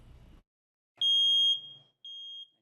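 A smoke alarm gives two sharp, high electronic chirps, the first longer than the second, loud and close with silence around them.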